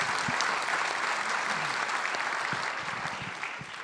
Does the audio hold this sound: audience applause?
yes